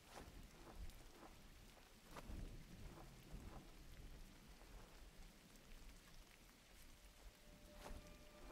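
Steady rain patters down while low rolls of thunder rumble underneath, quiet and continuous, in the video game GRIS.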